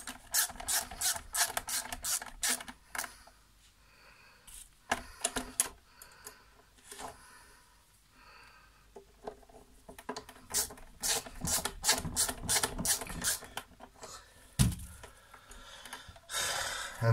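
A T20 Torx screwdriver loosens the screws on the handle of a Nespresso Pixie coffee machine, giving quick bursts of close ratcheting clicks separated by quieter gaps.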